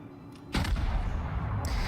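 Naval guns fire in a World of Warships battle, a single heavy boom that rolls into a sustained low rumble, with a faint earlier report and a brief hiss near the end.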